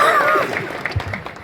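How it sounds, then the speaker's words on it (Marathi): Applause at an academy gathering, clapping that starts up and builds in scattered bursts as a voice trails off at the start. "एकदा अभिषेकसाठी जोरदार टाळ्या आपल्याकडून अपेक्षित आहे"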